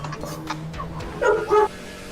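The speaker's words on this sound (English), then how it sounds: "What are you barking at" A dog gives two short, close barks in quick succession near the end, after some quieter background noise.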